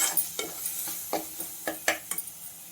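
Field beans (avarekalu) tipped into a pan of masala and stirred, with a low sizzle under a series of sharp spoon scrapes and clinks against the pan, close and fairly quiet.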